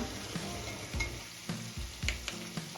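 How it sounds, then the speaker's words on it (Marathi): Ginger garlic paste sautés in hot oil for masale bhat, giving a steady close sizzle with soft periodic stirring scrapes and light clinks of a spoon against the pan. "आता आपली अद्रक लसूणची पेस्ट पण व्यवस्थित परतून झाली"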